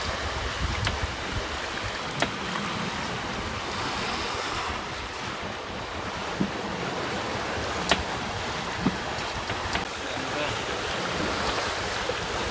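Ocean swell and waves wash steadily around a sailing boat at sea, with constant wind noise buffeting the microphone and a few faint knocks.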